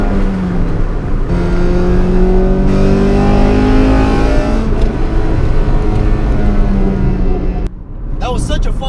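An Acura Integra Type R engine revs hard and climbs into its VTEC range, a loud, rising high-pitched howl through several gear pulls that cuts off abruptly near the end as a person begins to speak.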